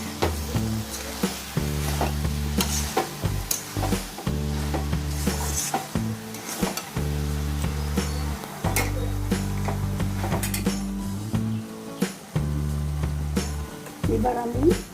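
A boal fish head and ash gourd curry stirred in a pan, with repeated scraping and clinking strokes in a steady rhythm over a constant background hum, close by.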